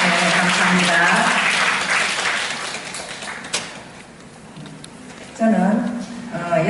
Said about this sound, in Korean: 우리 감사의 박수 한번 함께 보내드립시다.